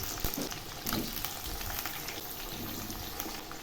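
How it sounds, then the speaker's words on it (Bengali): Diced potatoes and finely chopped onions frying in hot oil for a home-style mutton curry, with a dense, steady sizzle and occasional stirring close by. "এখন এই আলু আর পেঁয়াজগুলো খুব ভালো করে ভেজে নেব।"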